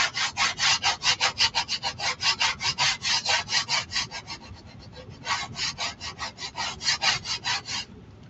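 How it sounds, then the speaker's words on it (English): A paste scraper scrapes material off wooden signs in quick, regular rasping strokes, close and loud, with a brief pause midway before the strokes resume and then fade out at the end; no voices. "I'm just going to use my paste scraper and get these off."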